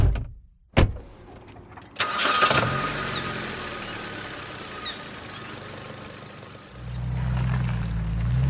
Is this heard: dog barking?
no